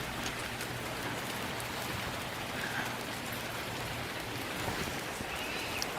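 Steady rain falls through a forest, a dense, even hiss of drops striking leaves and ground that holds constant for several seconds with no voices.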